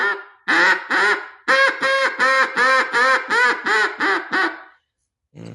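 A hand-blown duck call sounds a rhythmic series of about ten raspy quacks, loud and close, the notes descending and tapering off at the end of the sequence.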